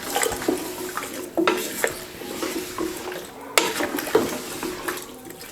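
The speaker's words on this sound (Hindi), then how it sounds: "अच्छे से मिक्स कर लेंगे।" Beef paya ingredients with turmeric, salt, whole spices and about a litre of water are stirred in a pressure cooker, giving irregular watery sloshes and metallic scrapes and clinks against the pot, close and moderately loud, with no talking.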